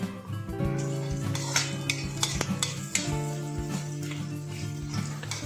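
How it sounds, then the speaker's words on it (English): Spoon scraping and clinking against a pan while onions and ginger garlic paste are stirred, with a steady soft sizzle of frying underneath and repeated close metallic taps. "stir all ingredients like ginger garlic paste and onions"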